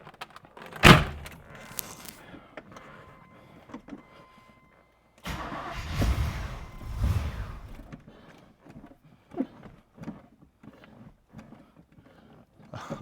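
A C4 Corvette engine bursts to life with a sharp crank and roar, then after a brief silence revs loudly and drives off, the engine sound fading into scattered clunks and bumps as the car moves.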